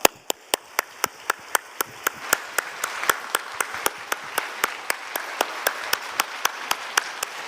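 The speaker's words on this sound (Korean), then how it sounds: "뜨거운 박수로 환영하겠습니다" Church congregation applauding during a Sunday worship service, a steady run of sharp, evenly spaced claps carrying through a fairly quiet room for several seconds with no talking.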